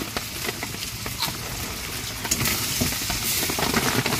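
Small crabs sautéed in a pan over a wood fire outdoors in wet weather hiss and crackle continuously, with frequent scraping stirs that grow louder toward the end.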